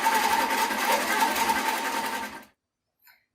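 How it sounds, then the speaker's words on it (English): A sewing machine quilting a baby quilt runs at a steady, rapid stitching rhythm, loud and close, for about two and a half seconds, then stops abruptly, leaving near silence. "Go ahead and quilt out the design,"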